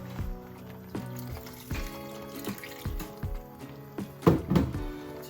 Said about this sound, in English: So I'll put more water.